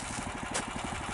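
A boat outboard motor idles steadily on a river at the opening of the navigation season, a low, even rhythmic throb with a fast pulsing beat, close and constant with no voices.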